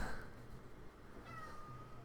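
An angry cat meows in a drawn-out, complaining call, faint and somewhat distant against a steady indoor background hum, with no one speaking.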